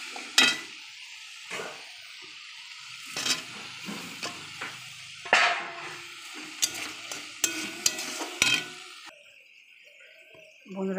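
Potatoes frying in a spice masala for a soybean and potato dish, with close, intermittent stirring scrapes over a quiet sizzle and no talk.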